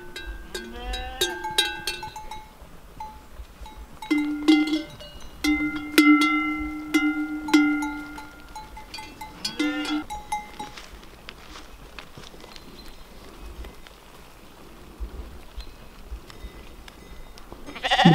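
Flock of sheep and rams at a mountain sheepfold in Borșa, Romania, with bells clanking irregularly close by, scattered bleats and shuffling hooves throughout.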